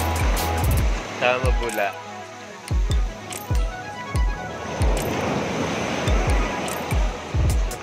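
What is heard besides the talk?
waves on the shore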